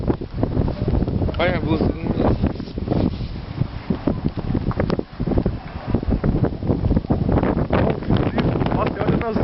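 Strong, freezing wind buffets the microphone in a snowy outdoor spot, a constant loud roaring rush with gusty surges while someone talks throughout.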